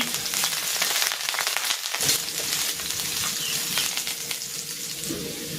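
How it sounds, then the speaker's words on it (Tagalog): Garlic sautéing in hot cooking oil in a pan for Filipino sotanghon guisado, a steady loud sizzle with scraping stirs and a brief dip in the noise midway. "Maglalagay na ako ng cooking oil. Magigisa na ako ng bawang."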